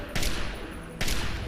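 Two short loud hissing bursts from a ruptured gas leak in Fallout 3, each a broad noisy blast lasting about a fraction of a second, separated by under a second of game background noise.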